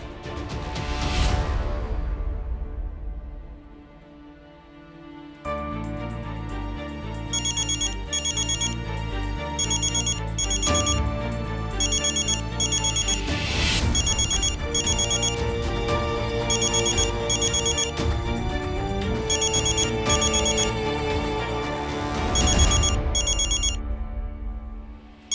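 A phone ringtone plays on a returned call, a looping electronic melody with repeating chime-like beeps that rings steadily and loud, with whooshes at the start and at several points.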